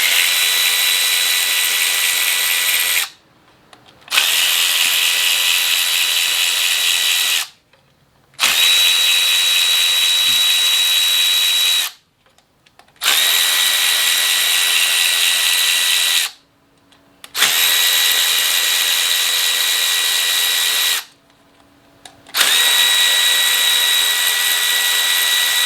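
A power tool spins out cam bridge bolts on a VW Golf R engine during timing chain replacement, giving six long steady whirring runs of about three to four seconds each, separated by short pauses, close and loud with no talk.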